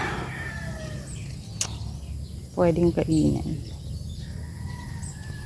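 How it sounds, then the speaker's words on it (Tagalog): Chickens cluck in a garden with a short burst of clucking near the middle, over steady outdoor background noise while a person talks nearby. "Kaya lang meron na naman dito mga manok."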